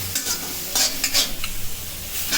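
Chopped tomato tipped into hot sizzling masala and stirred, with several bright scraping strokes of a spoon over a steady close sizzle, no talking.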